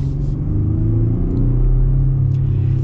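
A 2021 GMC Canyon Denali pickup truck accelerates with a steady, loud, low engine drone that rises slightly in pitch as it pulls, heard from inside the cab with no talking.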